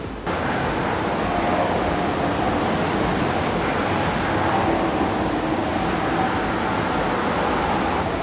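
Ocean waves surge into a sea lion cave on the coast at Florence, Oregon, making a constant loud broadband roar of churning surf that fills the space without pause.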